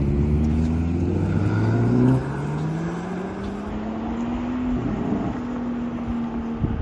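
An Aston Martin Valour sports car drives by in a Belgian village, its engine note loud and close, rising steadily in pitch as it accelerates past, then holding a smooth drone as it pulls away.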